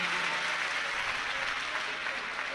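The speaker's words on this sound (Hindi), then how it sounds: "एक बार जोरदार ताली बजाएं पुलिस प्रशासन के लिए।" A large crowd at a live Shiv Mahapuran katha gathering applauds for the police administration, a dense wash of clapping from many hands, sustained and even throughout the short stretch.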